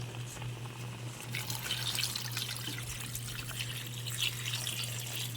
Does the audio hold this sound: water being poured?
yes